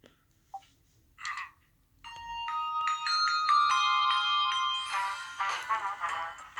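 A few faint chirps lead into brass instruments playing a bright melody of sustained notes in the Hershey's Kisses Christmas ad. The music fills the rest of the passage at moderate volume, with no talking.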